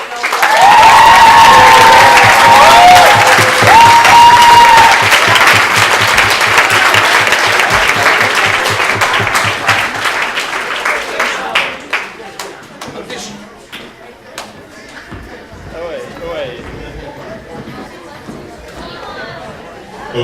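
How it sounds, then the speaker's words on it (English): At a youth forum awards announcement, a large audience breaks into loud applause with some cheering. After about ten seconds the applause thins into scattered claps and crowd chatter. "let's give him a round of applause."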